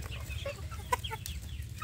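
Village chicks cluck softly in a netted run, a few scattered chirps and clucks over a steady low background hum, with no voices.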